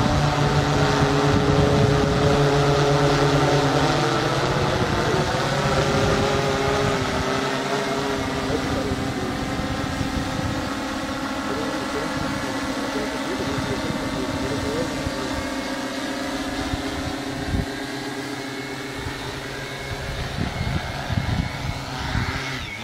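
Motors of an RC Timer F800-M6 hexacopter drone loudly and steadily as it makes an automatic landing, with the pitch shifting gradually over the descent. A voice speaks at times over the buzz.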